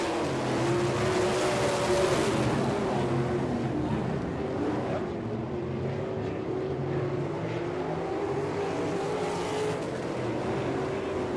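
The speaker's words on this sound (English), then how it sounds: "Byron Reed, here comes your leader off of turn number 4 for the checkered flag." 410 sprint cars racing on a dirt track at Fremont, Ohio, a continuous loud engine roar with the pitch rising and falling as the cars power through the turns.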